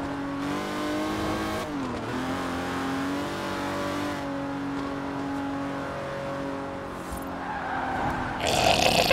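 A car from the 007 pack in Forza Horizon 4 revs hard, its engine note climbing and dropping through gear changes. Tyres squeal and skid along the way, and a harsh scraping burst comes near the end.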